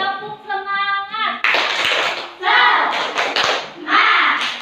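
A class of fourth-grade children in a classroom performs a rhythmic spirit clap, loud and close, with bursts of clapping mixed with their chanting voices after a teacher's sung or spoken cue.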